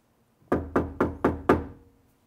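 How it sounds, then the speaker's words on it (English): Five evenly spaced knocks rap on a bare car door panel with no sound-deadening mat, each a hollow, resonant thunk that rings briefly before fading, close and alone. "Here's what a door sounds like before Dynamat."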